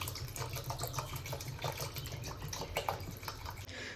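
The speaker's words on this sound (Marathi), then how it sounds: "आता याच्यामध्ये आपण थोडं पाणी टाकूयात थोडं थोडं थोडं पाणी टाकूयात" Water pours into a cooking pot for sabudana papad batter in a continuous splashing stream, close and fairly loud, with a low hum running underneath.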